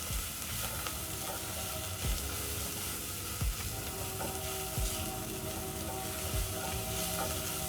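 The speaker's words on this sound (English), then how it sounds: "So you keep stirring as the garlic cooks so that it doesn't burn" Garlic fries and is stirred in a pan, a loud, continuous close-up sizzle with occasional spoon scrapes and knocks against the pan breaking through.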